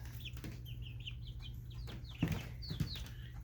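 Six-week-old Blue Star chicks peep in a quick series of soft chirps with a few low clucks, fairly quiet against a steady background hum.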